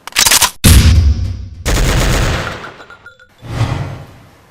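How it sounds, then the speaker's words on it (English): A Nerf gun fires in rapid bursts during a breakfast-table Nerf battle, loud close blasts with brief gaps between them and no talking. "Then Tommy gets mad and gets a Nerf gun."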